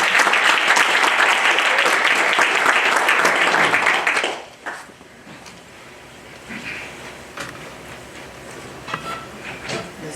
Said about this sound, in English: I want you to give me a rousing round of applause